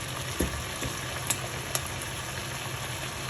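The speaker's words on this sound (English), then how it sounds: "Now our tortellini is done cooking. We're going to add it to the pan with the sauce." Cooked tortellini go into a pan of sauce, giving a soft continuous sizzle with a few light clinks and scrapes of a utensil, fairly quiet and without speech.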